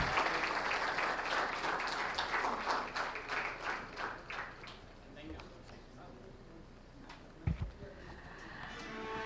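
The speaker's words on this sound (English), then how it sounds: "Ladies and gentlemen, a big round of applause" A modest audience claps at a company's stock exchange listing ceremony in Mumbai, rhythmic applause that starts fairly strong, fades into sparse individual claps, then leaves a quiet room with a brief thump and faint talk.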